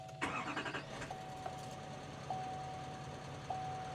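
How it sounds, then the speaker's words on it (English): A 2019 GMC Sierra Denali HD with the L5P Duramax diesel starting up: a brief crank burst at the start settles into a quiet, low idle, with a few electronic dash chimes ringing over it. "We'll go ahead and start the truck up."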